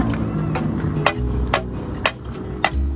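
A burger patty is pounded flat at a roadside stop over station in the cold, giving about five sharp, evenly spaced thwacks over a steady low rumble of highway traffic.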